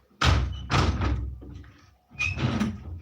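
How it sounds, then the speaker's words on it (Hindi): A door at home being pushed shut and banged, giving three heavy, close wooden thuds with short pauses between them and no voices. "बंद कर लो दरवाजा।"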